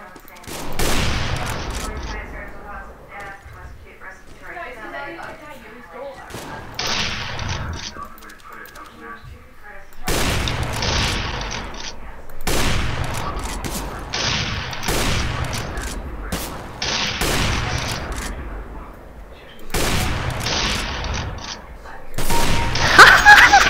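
Repeated bursts of rapid gunfire in a 1v1 online shooter match, loud volleys separated by brief pauses, with a player talking over the game sounds.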